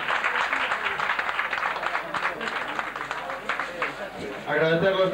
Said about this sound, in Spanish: Un aplauso al campeón